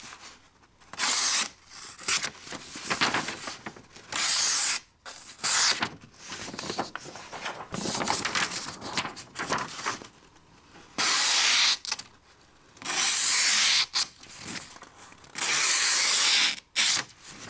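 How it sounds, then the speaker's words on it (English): Folding knife blade, a Kizer Feist with a touched-up edge, slicing through paper in repeated bursts of crisp, hissy cutting, close and fairly loud, separated by short pauses with no talk. "Listen to the paper."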